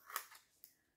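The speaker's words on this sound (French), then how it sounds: "On a trouvé un mini ciseau." Small mini scissors cutting, heard as a quiet, close snip followed by a softer second snip and a faint click, with no voices.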